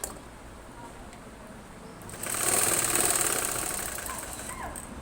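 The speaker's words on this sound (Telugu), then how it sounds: "ఇది ఇక్కడ సంకలో కుడుతున్నాను." A sewing machine runs in a steady whirring burst while stitching the armhole of a blouse, starting after a quiet room hiss, holding for about two seconds, then easing off.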